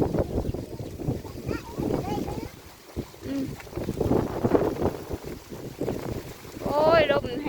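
Strong, dry, cold wind blows across an outdoor spot where oyster mushrooms are being picked, buffeting the microphone in loud, uneven gusts beneath a person talking.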